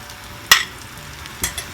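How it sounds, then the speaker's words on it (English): Ghee dropped into a pan of besan and khuskhus halwa gives a sharp sizzling burst, then a quieter second hiss a moment later over faint background noise. "I'm going to add this little bit of ghee which is left now"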